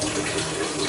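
Tap water runs steadily over a knife and scraper being rinsed in a kitchen sink while cooking beef stew, a brief soft splashing rush with no talking.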